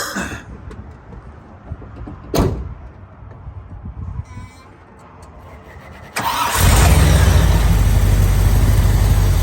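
A 1986 Chevrolet K10 Scottsdale 4x4 with a 454 big block V8 and Edelbrock carburetor cranks and fires, then settles into a loud, deep, steady idle close by, after some clicks and a door thud.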